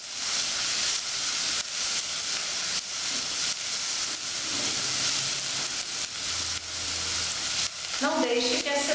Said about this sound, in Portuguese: Vamos colocar agora o nosso azeite e o nosso colorau e deixar até que a nossa cebola fique dourada.